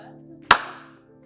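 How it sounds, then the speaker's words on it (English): A single sharp hand clap, loud and close, rings briefly in a quiet room over a faint steady hum. "I just need a clap"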